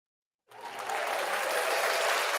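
A canned applause sound effect dropped into a sports podcast, a dense crowd clapping that starts abruptly, holds steady and cuts off after about two seconds.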